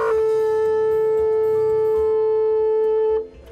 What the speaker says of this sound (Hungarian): Ezt a hangot pedig a szarvasmarha tülke produkálja Kis Dániel tolmácsolásában.